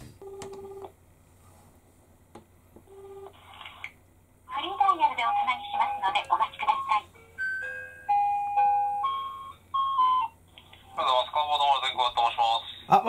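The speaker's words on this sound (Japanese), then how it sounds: "実際に今から電話していきたいと思います" Phone call placed to a car shop: a dial tone and ringback beeps, then a run of tonal electronic chimes and melody notes, like a hold jingle or dialing tones, fairly clear and without talk.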